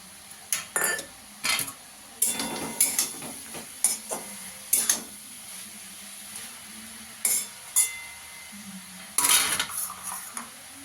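A metal pot lid clanks and scrapes as it is lifted, and peas go in with light rattles. Several sharp clinks come at irregular intervals over a low sizzle, close and clear, with no talking.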